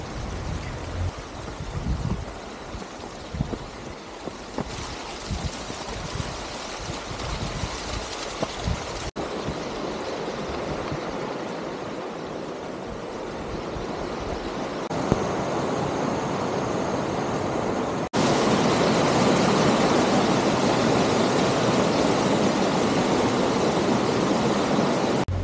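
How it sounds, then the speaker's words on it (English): A river runs near a hot spring among the rice terraces of Hungduan, Ifugao, giving a continuous broad rushing roar. It shifts in tone and grows louder toward the end, with no voices. "we hear the sound of the river flowing, inviting us to come"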